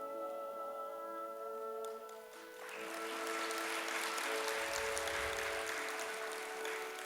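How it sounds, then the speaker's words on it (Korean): Congregation applauding two families setting out as ministers at a church Sunday service; soft clapping swells after a quieter start with tonal background, then holds as a steady wash of many hands. "사역자로 출발하는 두 가정에 큰 축복의 박수를"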